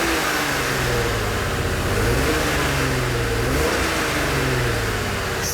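A 2003 Aston Martin DB7 Zagato engine revs loudly and steadily through its exhaust, rising and falling in pitch with a couple of throttle swells, heard up close with no talking.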